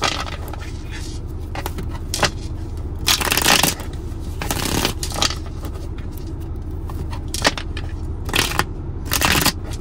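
Bursts of card shuffling for a card reading riffle through the clip, several crisp flurries over a steady low rumble of background noise.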